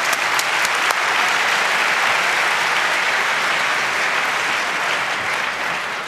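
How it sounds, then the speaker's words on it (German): A hall crowd at a hacker Jeopardy quiz show claps loudly and steadily for the contestants, dense applause holding at full strength throughout. "Ein Applaus für unsere Kandidaten."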